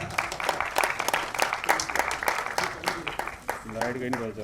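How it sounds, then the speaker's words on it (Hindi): Audience applause at an album launch event, brisk crowd clapping with sharp individual claps throughout, a voice starting to speak over it near the end. "एक बार जोरदार तालियां।"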